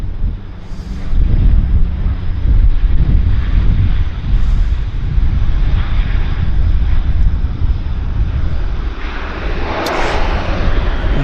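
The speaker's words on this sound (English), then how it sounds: "We've got our American Airlines taxiing out." An American Airlines jet taxis out at Vancouver Airport, a heavy low engine rumble droning steadily throughout with gusty wind noise over the microphone, no talk.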